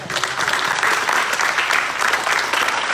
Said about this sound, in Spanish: Póngale un aplauso al Señor.